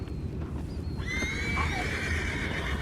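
A horse whinnies clearly over a steady low background rumble, with faint hoof clops nearby, in the video game Red Dead Redemption 2.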